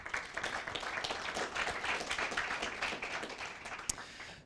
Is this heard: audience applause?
yes